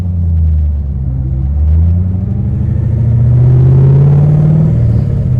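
Chevrolet Corvette C4 or C5 Z06 V8 rumbling up close, a deep, loud, continuous burble that swells as the revs climb and then settles, with no talking.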